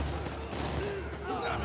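Gunfire in the video game Uncharted 4: A Thief's End, a dense, steady burst of shots and crackling impacts that lasts throughout and sits over low background game sound.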